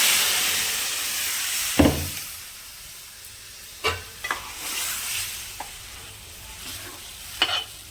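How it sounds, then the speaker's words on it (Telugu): Cooked dal is poured into a sizzling tempering for raw tamarind dal and stirred, giving a loud hissing sizzle that settles into steady frying with repeated spoon scrapes and knocks against the pan. "ఇప్పుడు పప్పు పోసేద్దామండి"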